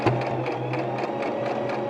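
Sewing machine stitching along the edge of a fabric mask, a steady rapid mechanical whir with regular needle pulses running throughout, close and alone.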